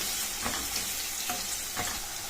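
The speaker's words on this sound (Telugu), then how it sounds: "ఆ తర్వాత కరివేపాకు, ఇవన్నీ వేసాక ఒకసారి కలుపుకొని పెట్టుకోవాలి." Dried red chillies and curry leaves fry in hot oil for a radish-greens dish, a steady close sizzle broken by several soft scraping stirs at irregular intervals, with no talking.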